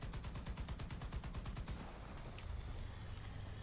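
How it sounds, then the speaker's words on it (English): MG3 machine gun fired in War Thunder, a rapid burst of closely spaced shots for almost two seconds, then rumbling vehicle noise continues without talk. "to actually fire the MG3 there"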